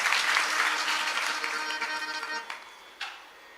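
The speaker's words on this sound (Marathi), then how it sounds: "एकदा त्यांच्यासाठी चांगल्या टाळ्या वाजवल्या पाहिजे" An audience at a Shri Ram Katha religious storytelling gathering in Savale claps loudly and steadily for the young organisers, then the applause thins to a few last claps.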